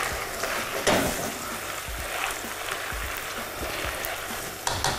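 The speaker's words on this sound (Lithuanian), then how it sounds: "Jei naudojate tefloninę keptuvę kaip aš, galite maišyti rečiau, nes jums nepridegs" Risotto sizzles in a nonstick pan while a spoon stirs and scrapes through it, a steady close-up frying hiss with occasional louder scrapes.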